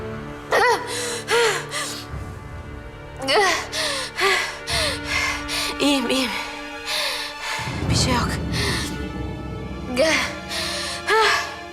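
Person gasping for breath in a dramatic scene, a series of sharp ragged inhalations and breathy whimpers, close and loud, broken by brief pauses and other voices speaking in between.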